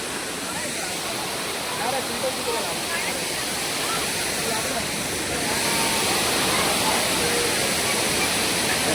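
Savdav waterfall in Konkan roars as a broad, steady rush of falling water, loud and close, holding an even wash throughout with no breaks.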